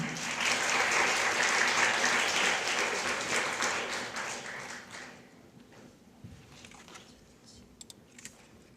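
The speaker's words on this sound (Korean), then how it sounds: "큰 박수로 환영해 주시기 바랍니다" A university leadership presentation contest audience claps to welcome a student team, loud and dense at first, then tapering off and fading into quiet room noise with a few scattered claps.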